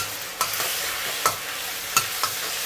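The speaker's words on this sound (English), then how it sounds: "Now mix them up well." Hor fun rice noodles stir-fried in a wok with light and dark soy sauce, steady sizzling with a few sharp scrapes and clanks of the spatula against the wok, no talk.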